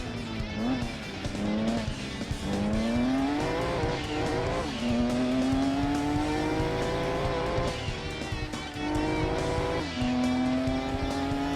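Car engine in Gran Turismo 2 while driving through sand, loud and continuous, with repeated gear shifts giving rising revs and faint tire noise throughout.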